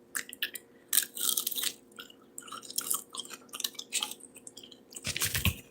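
Close, wet chewing of a bite of cooked meat finished in a reduction sauce, with soft squishy mouth sounds and crunchy bites in an irregular rhythm, ending in a louder burst near the end, with no talk.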